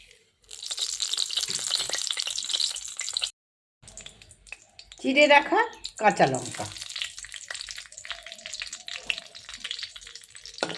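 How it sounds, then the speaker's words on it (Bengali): Nigella seeds sizzling in hot mustard oil for a dahi pabda fish curry: a bright, dense crackling hiss that stops briefly, then resumes with louder splattering bursts and a voice speaking over part of it. "তেলটা গরম হোক কিছু কালো জিরে"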